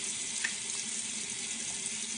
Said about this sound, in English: I literally just rinse it off.